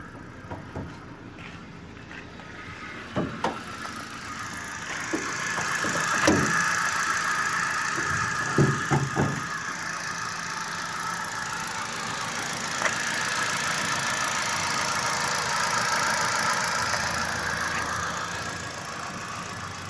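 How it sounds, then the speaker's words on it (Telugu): A 2014 Hyundai i20 Sports petrol car with 77,000 km on it, idling steadily with the bonnet open, a continuous engine hum broken by a few brief knocks and clicks, heard close and alone without talk. "బండి బీటింగ్ ఈ విధంగా ఉంది"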